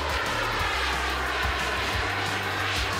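A jet engine suit in flight during a fastest-speed record attempt: a steady, loud roaring engine drone with a low rumble that holds throughout, no voices heard.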